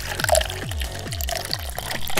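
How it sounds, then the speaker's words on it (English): Two-stroke fuel mixed 40-to-1 glugs into the tank of a gas-converted Surron bike, with a steady run of rhythmic gurgles as air bubbles back through the spout, close and fairly clear. "I mean fill it up with 40-to-1 2-stroke fluid"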